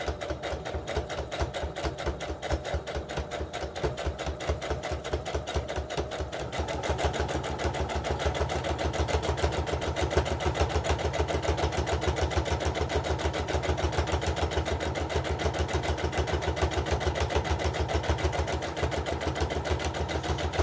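A sewing machine stitches a homespun fabric heart ornament in a fast, steady mechanical chatter that keeps going without pause and grows slightly louder and fuller partway through.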